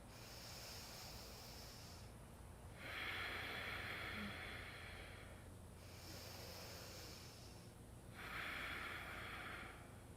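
Slow, deep breaths during a yoga pose, heard as long airy hisses of inhaling and exhaling close to the mic, about four breaths alternating in a steady rhythm with no talking.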